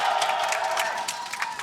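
Esports fans in an arena crowd cheer for Fnatic at a LEC Spring semifinal against G2, a steady mass of shouts and whoops with scattered claps lasting the whole moment, fairly loud and without talk.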